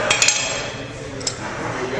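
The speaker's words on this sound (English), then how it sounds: "now we're going to remove the oil seal and inner bearing" Metal wheel bearing parts clink sharply a few times as the oil seal and inner bearing are taken out, bright close taps and rattles with a brief ring, then quiet handling noise.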